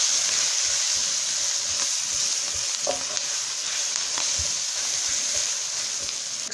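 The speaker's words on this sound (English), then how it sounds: "give this a good stir and just let it continue to cook to kind of get that flour taste up out the flour" A flour mixture cooks in a pan as the base for hamburger steak gravy, with a steady, close sizzle broken by repeated scraping strokes of a spoon stirring, and no voices.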